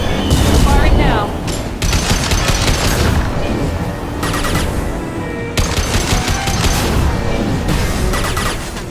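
Gunfire bursts in the video game Mass Effect 2, loud rapid shots with booming impacts and a busy combat soundtrack throughout, broken by short lulls between volleys.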